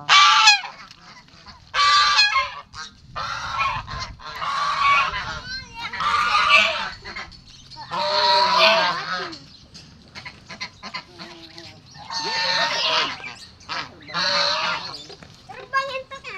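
Muscovy ducks in a rice field give loud, repeated honking calls in bursts with wing flapping, close by, while people shout and talk excitedly between the calls.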